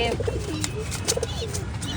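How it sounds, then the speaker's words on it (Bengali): Soft, low cooing of fantail pigeons in short repeated phrases, close by, with faint background noise, in a rooftop loft. "লক্ষা কবুতর ওই লক্ষা কবুতরের ঘরের বাচ্চা"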